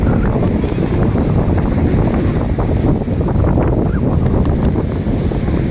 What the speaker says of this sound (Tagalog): lakas po ng alon. Gawa po'y bagyuhan talaga.